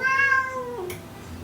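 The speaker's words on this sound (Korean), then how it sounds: "저놈의 고양이가 우는데 아주 힘듭니다" A house cat meows alone in a home with a newborn, one drawn-out, falling cry that fades into soft room noise.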